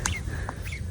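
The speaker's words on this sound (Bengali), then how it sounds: "রাজহাঁসের বাচ্চা।" Goose goslings in a village make a few quick, thin, high peeps close by, over a low rumbling background.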